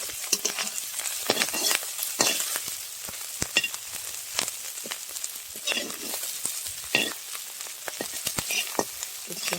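Shellfish (jhinuk) deep-frying in a pan in a village kitchen, a continuous close, bright sizzle broken by frequent sharp pops and crackles, with no talk.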